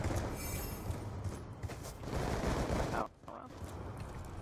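Rapid gunfire in Black Ops 2 clatters from a player firing into the air, dense and fairly faint, cutting out briefly near the three-second mark before resuming more quietly, with voices talking over it.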